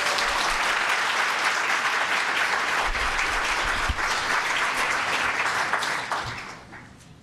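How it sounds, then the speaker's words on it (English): Audience at an International Women's Day celebration applauding, a full sustained round of clapping from a crowd that stays strong and then tapers off at the end. "So again, another round of applause for Dr. Fariba."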